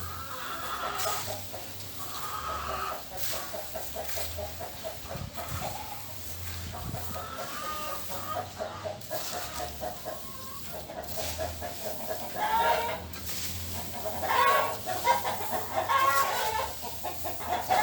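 Chickens cluck continuously nearby, a busy flock with rising squawks and cackles toward the end.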